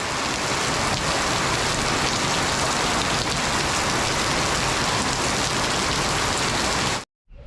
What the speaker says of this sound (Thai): โอ้โหฝนตกอย่างหนักเลย